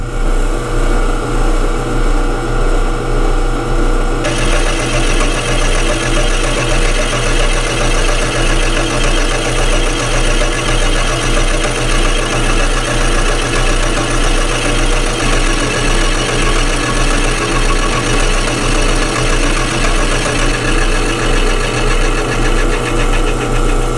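Prototype flywheel being machined on a lathe through an interrupted cut past bevelled leading edges, a steady loud rhythmic thumping and grinding that pulses evenly throughout with a constant motor drone beneath.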